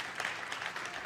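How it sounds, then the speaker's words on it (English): Audience at a Space Canada conference with a minister speaking, clapping in a brief, dense burst of applause, steady and moderately distant. "that round of applause is not for me, but it's for the leadership"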